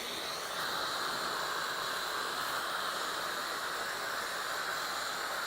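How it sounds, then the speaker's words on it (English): A Bissell Little Green steam cleaner blasts steam onto paint on concrete, giving a steady, even hiss that runs unbroken at moderate level with no voices over it. "So you'll pull the trigger, they'll start to steam."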